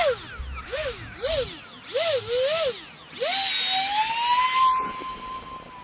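A Volantex F16 micro RC jet with a brushless electric ducted fan whines overhead, its pitch swooping up and down in repeated passes before settling into a sustained, rising whine as it flies nearby.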